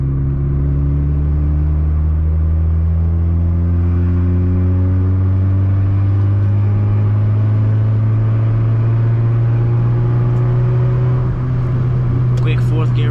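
A loud Hyundai Tiburon engine drones steadily from inside the car while driving, its pitch climbing gradually under acceleration, with some wind and road noise around it.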